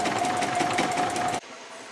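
A Juki HZL-F600 computerized sewing machine runs a steady, fast stitching burst at close range, loud and continuous with a droning whine, then cuts off abruptly, leaving a quieter room hum.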